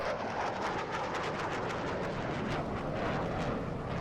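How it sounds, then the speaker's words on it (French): A steady, dense roar of airplanes flying overhead in the video game Dying Light, loud and continuous with a rumbling, rushing texture and no talk. "Oh, des avions."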